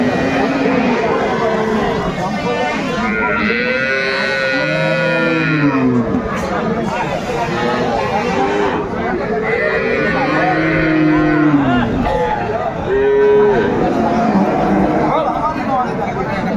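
Sahiwal cows and calves moo repeatedly at the busy Aftabganj cattle market, their long, loud calls rising over a constant hum of crowd chatter and nearby voices.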